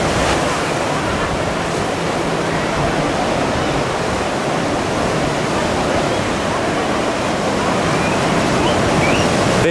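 Rough surf at El Palmar beach in Ixtapa Zihuatanejo, Mexico, makes a loud, continuous wash of breaking waves with a constant hiss and rumble, edged by some wind noise.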